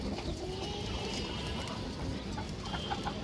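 A female pigeon cooing softly, a few low coos close by over a steady background hum.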